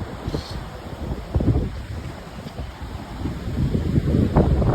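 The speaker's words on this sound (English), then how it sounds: "Definitely windy over here." Strong wind buffets the microphone on a Catskills mountain top near Palenville, rumbling in uneven gusts that rise and fall, close and loud, with no talking.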